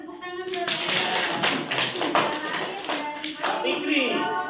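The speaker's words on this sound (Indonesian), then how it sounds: "Oke, sekali beri tepuk tangan dulu." Scattered applause from a class of students during an adult-learning lesson, uneven claps layered with talk and a voice over them.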